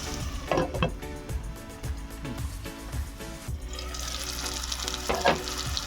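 Tomatoes cooking down in a covered pan on the stove, giving a steady close sizzle with soft bubbling and a few clinks of the lid or utensils, without any talk.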